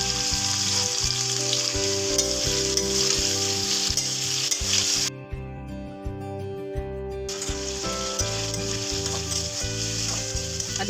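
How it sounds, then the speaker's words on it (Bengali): Potatoes frying in hot oil with cumin, a loud continuous sizzle that briefly drops away mid-way before returning, with steady music underneath. "আলুগুলোকে খুব ভালোভাবে ভেজে নিচ্ছি যাতে আলুগুলো একটু ব্রাউন ব্রাউন হয়ে যায়।"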